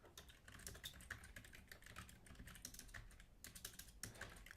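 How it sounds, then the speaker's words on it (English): Steady, rapid keystrokes on a computer keyboard during C kernel coding, close and clear, with irregular bursts of clicks and brief pauses, no talking. "I'm typing the same thing over and over again"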